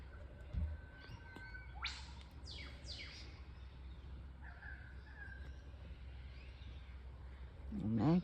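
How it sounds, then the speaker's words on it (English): Kookaburras call far off in bushland, faint rising and falling cackling bursts over a quiet outdoor background, with a brief knock and rustle near the start and end. "Can you hear the kookaburras? They're far away though."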